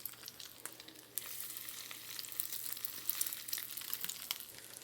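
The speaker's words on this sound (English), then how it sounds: "dip the patty in some egg and then some breadcrumbs and then fry it in some smoking hot fat" A patty coated in egg and breadcrumbs fries in smoking hot bacon grease, a faint but steady crackling sizzle that grows slightly busier after the first second.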